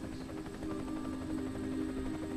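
Helicopter in a Rocket Rabbit video game cutscene, a steady droning rotor and engine hum holding evenly throughout at moderate level.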